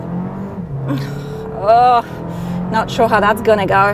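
A Jeep Compass 4xe plug-in hybrid with a 6-speed automatic launching from a standstill: an engine drone rises in revs under someone talking inside the car.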